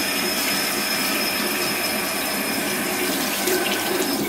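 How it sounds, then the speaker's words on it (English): Warm tap water runs steadily over a frozen acai puree packet, a constant close hissing splash lasting several seconds with no talking. "I'm gonna go ahead and run this under warm water for about 10 seconds."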